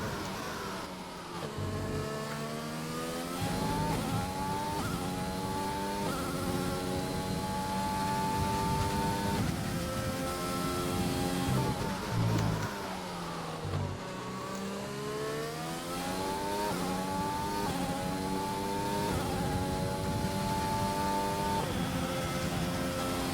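A Formula 1 car engine in a racing video game set at Bahrain screams steadily at high revs for the whole stretch, climbing through gears with brief dips on downshifts and braking, loud and close with no talk.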